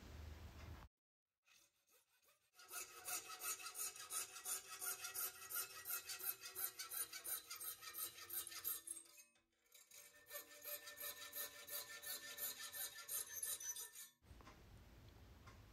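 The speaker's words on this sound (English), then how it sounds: "cutting magnesium with a hacksaw is that you need a really sharp new blade" A sharp new hacksaw blade cutting through magnesium, a quiet rhythmic rasp of quick back-and-forth strokes that comes in two runs with a short pause between them and stops briefly at the start and end.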